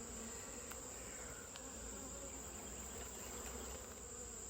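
Angry honeybees swarm and buzz around an open hive during an inspection, a dense, steady insect drone filling the whole stretch at close range, with occasional individual bees zipping past nearer.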